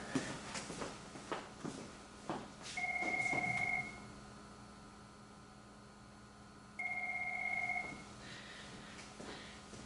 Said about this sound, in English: I'm not going to answer that phone